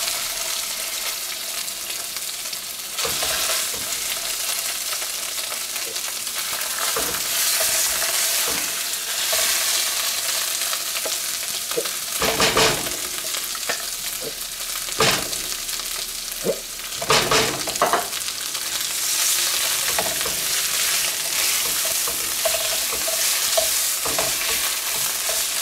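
Garlic frying in a pan over lowered heat until it browns, as the base of a pumpkin Alfredo sauce. A continuous close sizzle is broken by repeated scraping stirs and spatula knocks.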